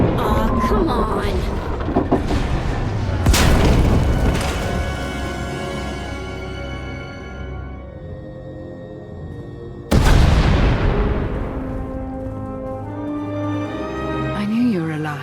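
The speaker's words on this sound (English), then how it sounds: "We heard explosions, the tunnel collapsed." Two heavy booming explosions in the SWTOR video game, the first followed by a long rumbling decay of collapsing tunnel debris, the second a sudden loud blast partway through, with dialogue heard around them.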